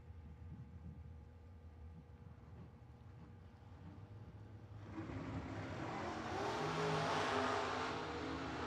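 A 1969 Camaro launches at a drag strip, a low engine burble suddenly swelling into a loud, roaring, broadband surge that holds steady at the crowded track.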